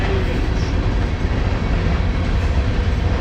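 An EMD ST-70H Tier 4 diesel locomotive passes close by, a loud, steady rumble of heavy rail cars and wheels with a dense low roar throughout.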